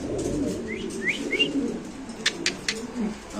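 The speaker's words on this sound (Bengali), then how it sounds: "নর তো পাগলা নর এই যে ডাক দেখেন" A male grizzle Mundian pigeon's calls ring out close by, a few rising coos and chirps over a low murmuring background, with sharp clicks near the end.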